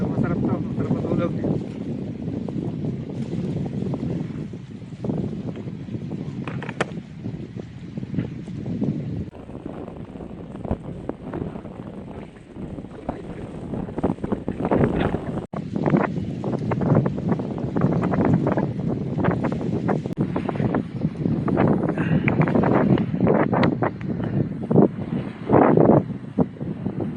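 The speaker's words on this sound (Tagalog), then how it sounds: "Malakas yung hangin." Strong wind gusts across a night fishing camp on an island near Abu Dhabi, a steady roaring buffet with microphone rumble and occasional knocks, voices talking underneath.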